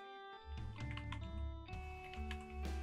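Keys clatter on a computer keyboard as a terminal command is typed, a quick run of soft clicks and taps over a steady electronic hum, close and fairly quiet.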